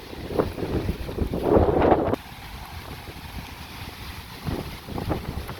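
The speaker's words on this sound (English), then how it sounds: "Oh wow, it's breezy." Gusty wind buffets the microphone during an outdoor walking tour of the Biloxi arts district near the town green, loud rumbling bursts that drop off suddenly and then return in weaker gusts.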